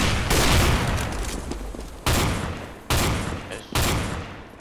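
Gunfire in the video game CS:GO: four sharp, booming shots or bursts spaced about a second apart, each one ringing out and fading, loud and close.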